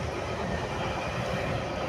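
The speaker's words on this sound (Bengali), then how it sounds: "দুটো লেভেলের ট্রেন।" Inside a double-decker GO commuter train, a loud, steady low rumble fills the carriage, with dense rolling wheel and track noise and no clear breaks. No one speaks.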